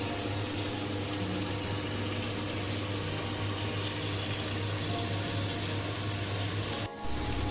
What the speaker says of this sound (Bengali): কিছুটা পরিমাণে গরম জল করে রেখেছিলাম, সেইটা এখন এর মধ্যে আমি অ্যাড করে দিচ্ছি